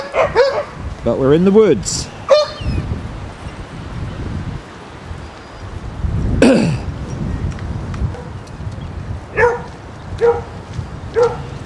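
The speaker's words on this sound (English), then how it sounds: "Lovely dog." Basset hounds barking in a cold woodland on a group walk near Exeter, a few scattered barks and yips at moderate distance, mixed with people talking nearby and rustling underfoot.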